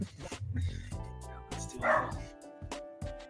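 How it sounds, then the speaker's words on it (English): Small household dogs give a few yapping barks and whimpers close by, interleaved with short bursts of talk. "These dogs."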